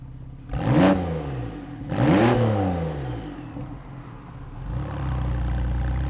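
Porsche 911 Carrera 4S (991.2) engine with sports exhaust, two loud close throttle blips that rise and fall sharply, then settling into a deep rumbling idle.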